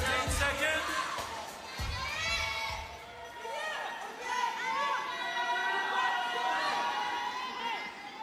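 Indoor crowd cheering and chattering at a women's goalball match in South Paris Arena, a sustained lively roar with shouts and whistles rising and falling, a commentator speaking over it.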